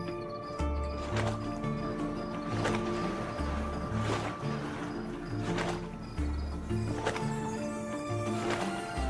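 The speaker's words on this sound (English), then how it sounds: "it's crazy that the horse can swim" Horse swimming through water in the video game Monsters & Memories, with repeated splashing, rhythmic paddling strokes over a steady low game-music bed, close and moderately loud.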